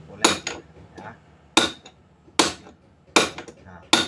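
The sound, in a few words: hammer tapping out Honda Beat CVT bearing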